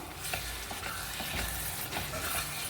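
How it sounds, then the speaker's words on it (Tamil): Chicken cooking in a pot for biryani is stirred, with a continuous soft sizzle and repeated scraping strokes up close, no talk. "சிக்கன் வேகும் போது ரெண்டு வாட்டி எடுத்து கிண்டி விட்டுக்கோங்க இடையிடையே கிண்டி விடணும்"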